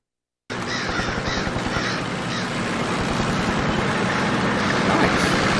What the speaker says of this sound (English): So we're starting off with a bird.